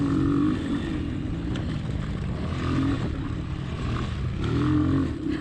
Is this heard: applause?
no